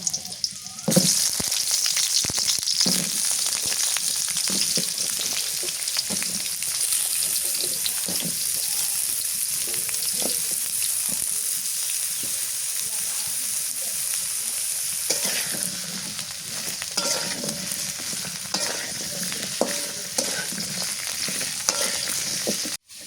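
Chicken (broiler) meat frying in a pan with steady loud sizzling, punctuated by repeated scraping stir strokes and spoon knocks throughout, with no talking.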